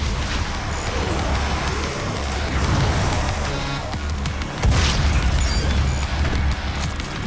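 A dense, rumbling in-game explosion from DOOM, with a broad roar and a sharper blast partway through, loud and continuous over heavy combat noise.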